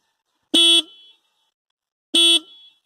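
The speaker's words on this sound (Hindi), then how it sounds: "एक बार हॉर्न सुन लेंगे इसकी" Two short, loud electric horn beeps from a Yamaha FZ S FI Version 3.0 motorcycle, evenly spaced about a second and a half apart, each a bright buzzy tone with silence around them.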